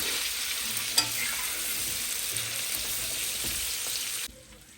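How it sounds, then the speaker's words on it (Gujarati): Okra pods stirred gently in masala in a hot pan, a continuous close sizzle with soft stirring and one brief clink, cutting off abruptly near the end. "હવે આપણે બધી ભીંડાની શીંગો એડ કરી દીધી છે. પોચા હાથે જરૂર હલાવવાનું છે."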